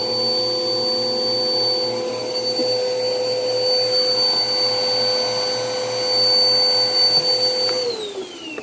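Clogged vacuum cleaner with blocked filters running continuously, a loud steady motor whine with a strained high-pitched tone, close and alone.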